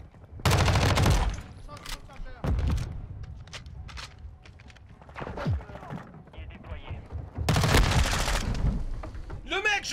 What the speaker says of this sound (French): Oh, les bruits d'armes, mec. Incroyable, c'est tellement bon.